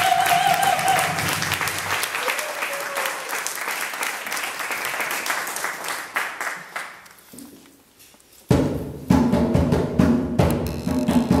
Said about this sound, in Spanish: Por favor, un aplauso fuerte para nosotros